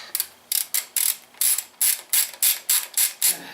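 Rhythmic ratchet clicks from loosening the brackets on a Honda Rebel 250 motorcycle, about ten even bursts of close, crisp ratcheting with short pauses between them and no talking.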